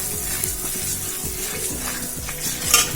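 Asafoetida goes into a pan of kadhi and sizzles steadily, with a constant frying hiss and faint stirring and scraping noises against the pan.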